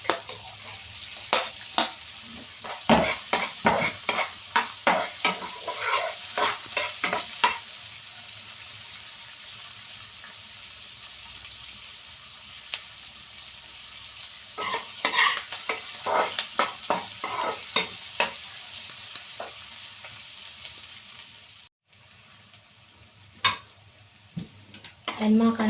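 Onion and garlic stirred and frying in a pan, with bursts of sizzling and scraping stir strokes that come in clusters, pause, then resume. Steady frying hiss sits underneath, close and moderately loud, with a brief drop near the end.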